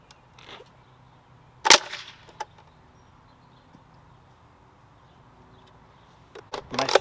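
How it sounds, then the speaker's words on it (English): A Nerf Dog tennis ball blaster fires outdoors in a large yard with a single sharp pop, followed by a few softer clacks, and a louder burst of activity comes near the end. "It's racked. It's all ready to go. So I'm going to fire it."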